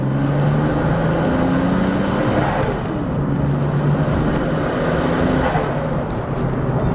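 A 1995 Nissan Skyline GT-R R33 with over 500 whp drives along, its engine and road noise a steady droning rumble inside the car. A distinct turbo blow-off burst is not evident.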